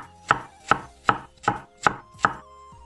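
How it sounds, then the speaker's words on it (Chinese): A knife slices peeled Chinese yam into round slices on a board: six crisp, evenly spaced cuts land about every half second, close and clear, with no talking. "再把去皮的山药切成圆片"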